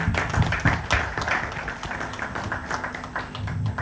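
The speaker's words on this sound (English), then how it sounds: "Can we give him a round of applause, please?" Applause from the audience at a Scar 2 Shine event, a dense patter of hand claps that swells early and then thins to lighter scattered clapping over a few seconds.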